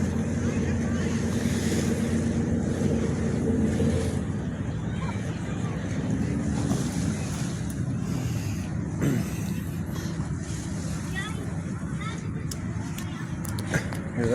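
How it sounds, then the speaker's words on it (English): A motorboat cruises past on open water during a Fourth of July gathering, its steady engine drone mixed with wind and lapping waves, with people chatting nearby throughout. "Look at that boat over there."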